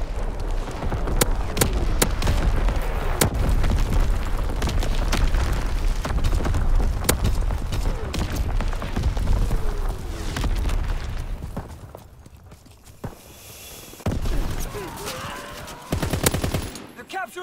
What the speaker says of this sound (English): Firing battery one.